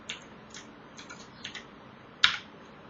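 Sparse keystrokes on a computer keyboard while R code is being typed, a few light clicks spaced apart and then one sharper, louder tap near the end, close and quiet with no talking.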